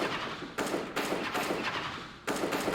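Rapid bursts of gunfire in a video game aim challenge at a BLAST Pro Series esports event, several dense volleys with brief gaps, fairly quiet and continuous.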